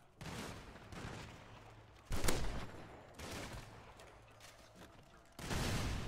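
Shotgun fire in a video game, a series of heavy booms and rattling bursts separated by short lulls, loud and close, with mechanical clatter between shots.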